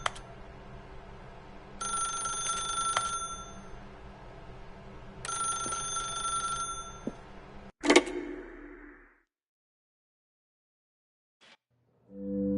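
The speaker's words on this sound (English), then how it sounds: "Now pick up the phone." A telephone ringing in a video game, two long bright electronic rings a few seconds apart, followed by a sharp clunk, a fading tail, silence and a short soft tone at the end.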